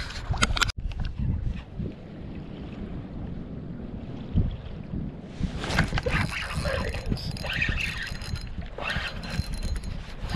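Boats pass by on the water near a shoreline during inshore speckled trout fishing, a steady low motor rumble under wind buffeting the microphone, swelling louder and brighter toward the end.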